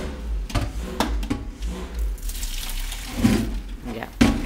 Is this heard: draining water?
yes